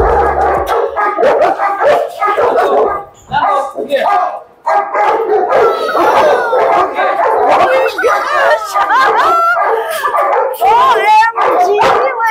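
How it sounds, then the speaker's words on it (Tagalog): Many large dogs bark, howl, yip and whimper all at once, a loud, dense chorus that keeps going, with people talking over it. "Ang daming magagandang aso"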